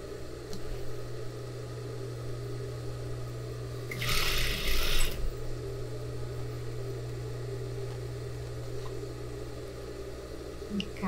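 A sewing machine stitches a sleeve back onto a blazer being altered, running in one short, close burst of rapid whirring for about a second amid a quiet room hum.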